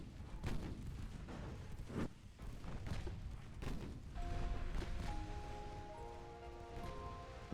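Naval shellfire from an early-1900s Japanese fleet in Ultimate Admiral Dreadnoughts, with repeated dull booms and crunching impacts against heavy armor over a continuous rumbling battle din, followed by a steady tonal hum.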